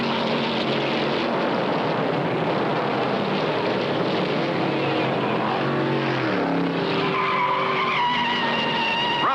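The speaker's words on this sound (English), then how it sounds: "Rutherford in number 13 Chevrolet spins on the backstretch." At the 1963 Daytona 500, a number 13 Chevrolet race car spins on the backstretch, tires skidding loudly with a continuous squeal over engine roar, rising to a sharp, pitch-shifting screech near the end.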